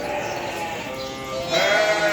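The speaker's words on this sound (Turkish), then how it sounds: "Çok güzel kırma bir kuzu." Crossbred Merino lamb bleating at a livestock pen, a wavering nasal cry that rises louder toward the end over steady background noise.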